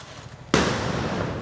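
An atom bomb firecracker set off at a night birthday celebration, a single sharp loud blast after a brief quiet moment, followed by a lingering crackling roar.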